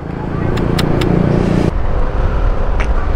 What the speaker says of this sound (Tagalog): Grabe, 5:31 na. Sobrang traffic.